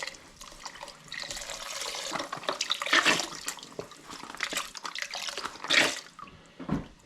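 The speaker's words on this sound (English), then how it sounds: "So about 4 quarts beef stock." Beef stock is poured into a pot of Tuscan ribollita stew in a steady, splashing liquid stream. The pour comes in uneven gushes with a few louder splashes, close by and fairly quiet, with no voices.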